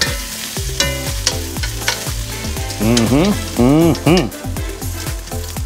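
Ribeye steak sizzles and fries in a hot pan, seasoned with pepper, a steady crackle sitting under prominent tonal music with a brief murmured voice.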